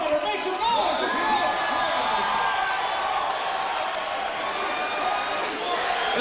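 A fight event crowd cheers, whoops and roars continuously, a dense, loud wall of voices with shouted calls throughout.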